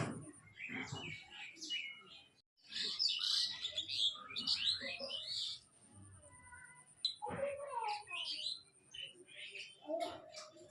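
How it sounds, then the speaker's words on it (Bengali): Birds chirp and twitter outdoors in varied bursts of high, quick calls, with short pauses between them and some soft background noise. "এখান দিয়ে দেখো কত সুন্দর পাখির কিচির মিচির আওয়াজ শোনা যাচ্ছে"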